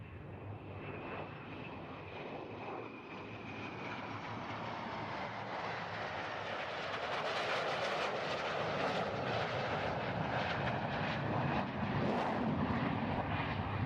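Military jets roar overhead during an in-flight refueling demonstration at the NAS Oceana air show, a broad engine rumble building and staying loud and continuous with no speech.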